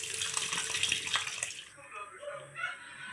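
Small boneless fish rinsed under a running kitchen tap: a steady, close gush of water for about a second and a half that then thins into quieter trickles and splashes.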